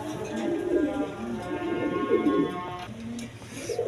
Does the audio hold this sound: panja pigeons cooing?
yes